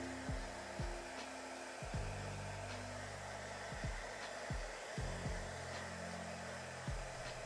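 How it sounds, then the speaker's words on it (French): A hair dryer runs steadily at a hairdresser's salon as hair is dried again, a continuous close blowing whir with periodic tonal sweeps as the airflow shifts, no talking. "Laissez-moi juste un moment pour vous sécher à nouveau les cheveux."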